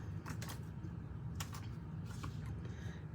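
Scissors snip through Whisper White crinkle ribbon: a few faint, brief cuts over a steady low background hum.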